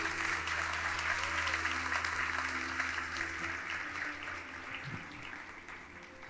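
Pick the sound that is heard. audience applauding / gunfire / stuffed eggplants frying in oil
audience applauding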